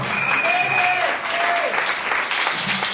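Church congregation clapping together in worship, a dense sustained wash of applause filling a large room, with a sung or called-out voice line drifting over it.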